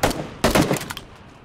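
Gunfire from the video game PUBG comes as two sharp, loud bursts of rapid shots close together, the second trailing off into a fading echo.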